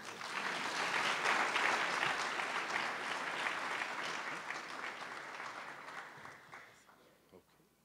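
Audience at an awards evening applauding as a presenter is welcomed onto the stage, dense sustained clapping that swells early, then gradually fades over several seconds.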